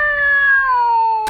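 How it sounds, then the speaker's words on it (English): A Siamese cat gives one long, loud, drawn-out meow up close, its pitch slowly falling before a brief noisy cutoff. "How about this Siamese cat?"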